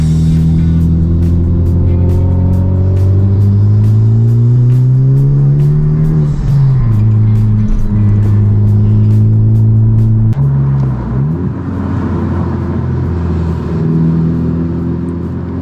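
A car pulls away hard at a car meet, its engine loud and close as it revs up through rising gears, then drops back and rumbles while the sound fades.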